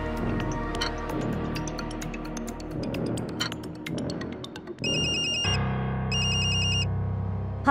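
Mobile phone ringing for an incoming call, a bright repeating electronic ringtone in two bursts, loud and close, following a stretch of music and other sound.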